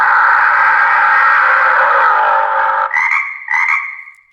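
Frog croak sound effect played through a Big Bubba wireless car horn: a loud, buzzy, processed croak held for nearly three seconds, then two short croaks, heard alone.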